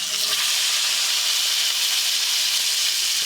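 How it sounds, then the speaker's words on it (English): Meat sears in a hot pan with a loud, steady, broadband hiss that holds unbroken from start to finish, close and dense with no talk over it. "I want to sear this all the way around"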